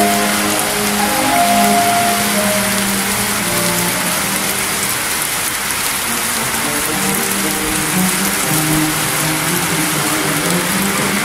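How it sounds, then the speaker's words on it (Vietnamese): Heavy rain pours steadily onto a flooded street in Phan Thiết, a dense, continuous hiss with faint traffic rumbling underneath. "chiều nay mưa hơi nặng hạt đó, mưa nặng hạt quá trời luôn"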